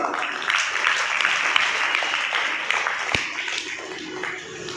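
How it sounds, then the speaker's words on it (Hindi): Applause from a crowd at a school honours ceremony for students of a higher secondary school in Rajasthan, a steady dense patter of clapping lasting throughout, with no talk over it. "जोरदार ताली एक बार।"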